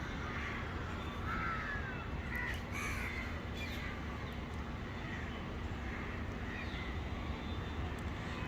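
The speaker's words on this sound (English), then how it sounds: "A load of crows" A flock of crows caws faintly at a viewing platform above Mumbai, with scattered calls over a steady wash of city and aircraft-like noise.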